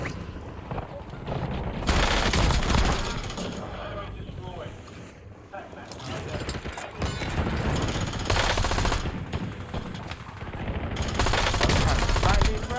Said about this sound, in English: There go an airstrike for somebody.